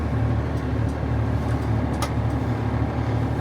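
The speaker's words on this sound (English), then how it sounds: "what we've got is a very noisy sprayer" A very noisy RBR agricultural sprayer engine drones loudly and continuously from inside the cab, a dense low rumble with a few brief clanks over the top.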